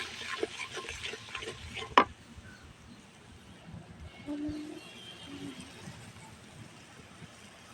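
Spice paste with ground coriander and salt stirred and fried in a pan, a soft steady sizzle with scraping stir strokes and one sharp clink near the start, fairly quiet and without talk.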